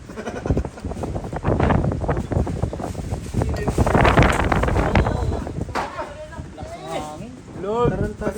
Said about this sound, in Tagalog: Huwag naman po gantong hangin.